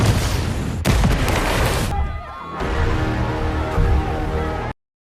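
In a film battle scene a front gate explodes, with a loud, dense boom and a second burst followed by crackling, gunfire-like debris and rumble, ending in a sudden cut to silence.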